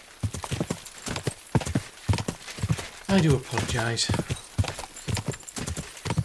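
Horse hooves clip-clop in a steady rhythm, close and distinct, in the video game Kingdom Come: Deliverance II, while someone talks over them and a horse briefly whinnies.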